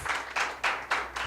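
A seminar audience giving a standing ovation: short, evenly spaced bursts of clapping roughly every quarter second, fairly quiet and distant, with no talk over them.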